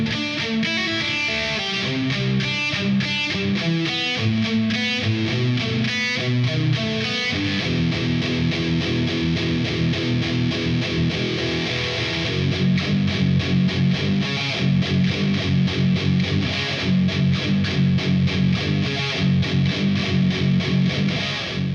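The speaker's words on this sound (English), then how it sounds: "So we're starting with the riff that we covered in the clean section. Now we have distortion on it though." A distorted electric guitar plays the bridge riff of a song, loud and continuous, moving from fast chugging picked notes into heavier sustained chords, with no voices over it.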